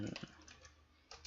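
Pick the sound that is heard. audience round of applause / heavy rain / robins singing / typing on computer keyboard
typing on computer keyboard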